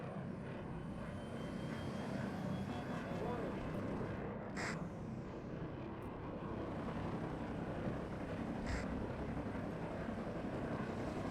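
A helicopter in a modded war game hovers and resupplies beside a large landing ship, a continuous low rotor and engine drone throughout, with faint game effects on top.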